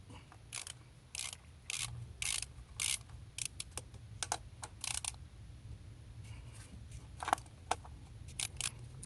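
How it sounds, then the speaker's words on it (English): Ratchet with a 10 mm socket loosening the ignition coil bolts on a Nissan Rogue, close and crisp, in repeated bursts of rapid clicking with short pauses between strokes, no talking. "we're gonna start by just loosening all the ignition coils using a 10 millimeter socket"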